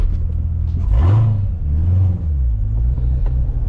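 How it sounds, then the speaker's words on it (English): A 650 hp Chevrolet Corvette C7 Z06 engine in sport mode rumbles nearby, rising briefly in a short rev before settling back to a steady low idle. "Alright, let's go ahead and throw the car in sport mode."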